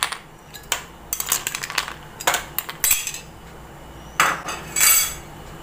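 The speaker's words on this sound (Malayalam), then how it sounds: "രണ്ടോ മൂന്നോ ഐസ് ക്യൂബ് ഇട്ട് കൊടുക്കാം." Two or three ice cubes clink and clatter as they drop into a jar of rose apple juice with lime, giving a series of sharp, close knocks in uneven bursts.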